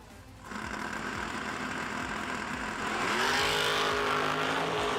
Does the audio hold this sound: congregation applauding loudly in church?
no